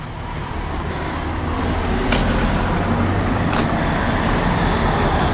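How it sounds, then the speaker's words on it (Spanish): Steady roar of road traffic near Gijón, Spain, with cars swishing past nearby, one after another, the rumble building slightly as vehicles go by. "Vaya con la de coches que hay atrás."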